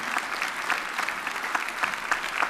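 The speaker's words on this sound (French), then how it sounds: "Et nous allons de nouveau accueillir Timothée sous vos applaudissements." Steady, dense applause from a studio audience at a French game show, loud and continuous with small surges of clapping throughout.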